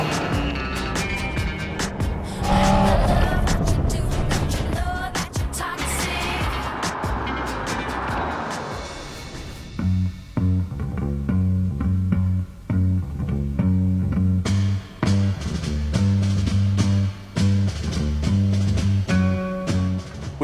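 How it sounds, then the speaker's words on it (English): A Porsche 911 GTS with its sports exhaust valves open roars loudly as it accelerates, then settles into a rhythmic, burbling run of repeated revving bursts and crackles. "And when you open the exhaust, how good does this sound?"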